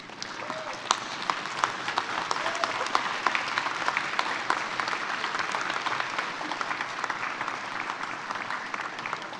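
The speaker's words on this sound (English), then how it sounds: "give them a warm round of applause for supporting your journey" Graduates at an autumn university convocation applaud their family and friends, giving a sustained round of dense clapping that fills a large hall steadily from start to finish, with no voices standing out.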